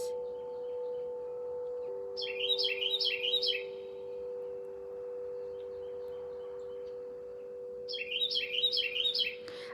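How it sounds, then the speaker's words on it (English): A bird sings two short bursts of quick, bright chirping trills, separated by a pause, over a steady low hum in the background. "see that beautiful bird. You hear it?"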